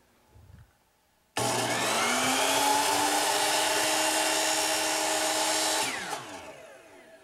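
A power saw cutting an angled section of cove molding on a wooden Chippendale mirror frame: a loud, steady high whine begins abruptly, holds for about four and a half seconds, then winds down as the blade spins to a stop.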